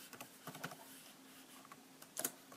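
Computer keyboard typing fastboot commands into a command window while flashing a ROM to an HTC One S phone: scattered soft key clicks with a brief louder burst near the end, faint and close, with no talking.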